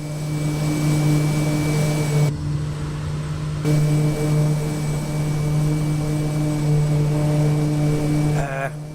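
Kodiak 100 single-engine aircraft in Microsoft Flight Simulator, a loud steady engine drone with a strong low hum and whining tones, dipping briefly as the view shifts before roaring back at full level.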